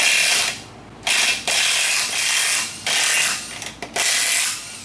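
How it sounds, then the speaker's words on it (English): Ratchet with a 19mm socket loosening lug nuts on a 2003 Mazda B2300 pickup, close rapid clicking in several repeated bursts separated by short pauses. "take 19mm socket and bust off all the lug nuts"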